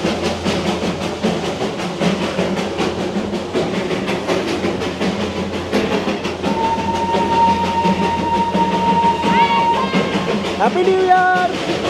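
Darjeeling Himalayan Railway toy train running on rails near Ghum station, a steady rumble of wheels and carriage noise throughout, with a long whistle tone and short squealing notes toward the end and crowd chatter in the background.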